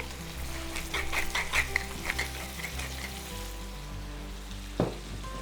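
Tuna pasta sauce sizzles in a hot pan while being stirred quickly, with rhythmic utensil scrapes over a constant close frying crackle, then a single louder knock near the end.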